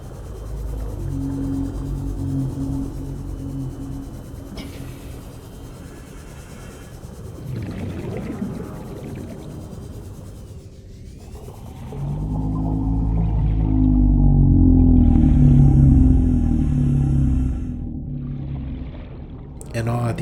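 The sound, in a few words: reefback leviathan roar in the video game Subnautica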